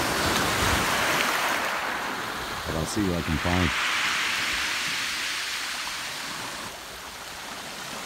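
Ocean waves breaking and washing up a beach make a loud, steady roar throughout, with a person's voice speaking briefly over the surf.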